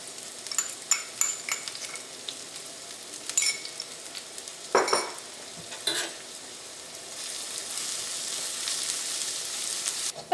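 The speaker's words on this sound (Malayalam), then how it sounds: "ഈ ചൂടായ വെളിച്ചെണ്ണയിലേക്ക് നമുക്ക് ഇഞ്ചിയും പച്ചമുളകും ജിഞ്ചർ ഗാർലിക് പേസ്റ്റും ചേർത്തിട്ട് നന്നായിട്ടൊന്ന് വഴറ്റിയെടുക്കുക" Onions, green chilies and ginger garlic paste sautéing in hot coconut oil, a soft continuous sizzle with intermittent scrapes and clinks of a spoon stirring the pan, with no talking.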